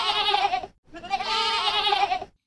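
Sheep bleating as a sound effect in a radio drama, two long, wavering cries, loud and close, separated by a short pause, with no voices.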